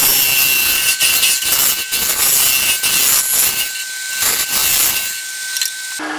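A hand saw cuts into a wooden turned box in steady back-and-forth strokes, a close, loud, raspy rhythmic sawing with a thin steady whine underneath, continuing for several seconds without voices.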